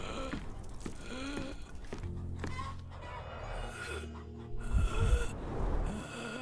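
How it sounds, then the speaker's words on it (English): A man suffocating gasps and struggles for air with ragged, snorting breaths and wheezes, heard up close under speaking voices. "He has trouble catching his breath."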